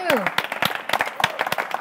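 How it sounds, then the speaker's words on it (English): Studio audience applauding a guest on a talk show, scattered claps with a few voices and a cheer mixed in, moderately loud and fairly brief. "Give a nice round of applause"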